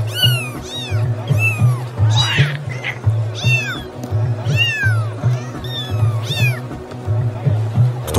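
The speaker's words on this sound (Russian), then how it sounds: "Кто сказал мяу?" A cat meows repeatedly in loud, drawn-out, rising and falling cries, close to the listener over a low steady hum.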